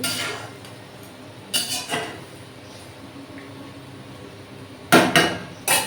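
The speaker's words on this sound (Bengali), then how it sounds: "তো ঢাকনাটা দিয়ে দিই" A metal lid is set onto a pot of simmering fish curry in a home kitchen, making a few sharp clanks and rattles in short bursts over a quiet background.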